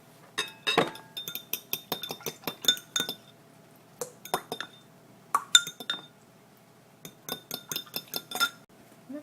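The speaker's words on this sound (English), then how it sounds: "And then just go ahead and mix that egg in." An egg is whisked in a bowl with a utensil, giving bursts of sharp clinks against the side in quick uneven runs, with short pauses between them.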